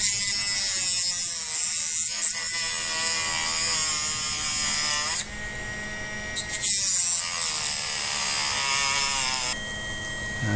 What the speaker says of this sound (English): I'm hoping I have enough battery left in this little cordless unit to cut the other side.